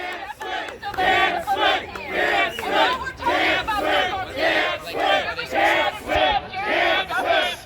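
Protest crowd chanting in loud, rhythmic bursts at a campus speaking event at Penn State, with many voices shouting in unison and steady repeated phrases about once a second, close and dense.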